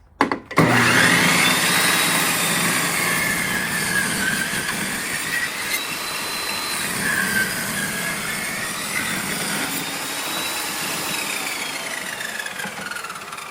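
Table saw cutting a notch into exterior window trim for a mobile home, starting with a sharp bang then a long steady high whine with wavering pitch as the blade runs through the wood, close and loud without talking.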